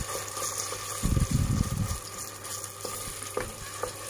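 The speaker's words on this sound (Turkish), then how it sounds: "İçine sucuğumuzu atıyorum. Onunla da güzelcene kavuruyorum." Sucuk sausage frying in a pan with tomato paste for a vermicelli soup, a burst of loud sizzling in the middle that settles into a quieter crackle with a few light stirring knocks.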